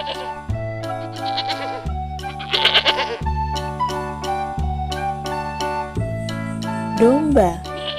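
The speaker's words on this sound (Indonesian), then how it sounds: "Domba." A sheep bleats in a wavering cry over steady background music, heard during a children's educational unboxing of rubber and plastic toy animals.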